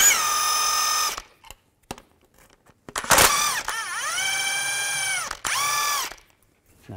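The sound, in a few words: power tool removing control arm bolts with 16mm socket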